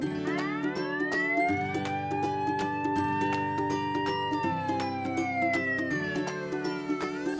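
A fire engine siren wails, rising slowly and falling back in one long sweep, over a buzzing electronic drone and a scatter of sharp clicks.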